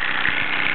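A small Bowman PW202 model steam engine running, giving a brief, steady mechanical whirr with a faint rhythmic pulse, moderately loud and alone.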